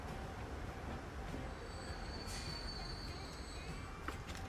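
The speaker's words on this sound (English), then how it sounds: "here's our passenger train" A passenger train in the video game Transport Fever 2 rolls past with a steady, dense rumble, punctuated by faint high wheel squeals and brief metallic clicks throughout.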